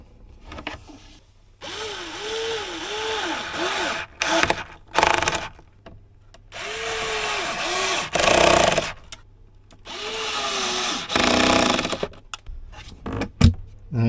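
A cordless power drill whirs in several short bursts while new hinges are fitted to a campervan cupboard door, each burst rising and falling in pitch, with clicks and handling knocks in between.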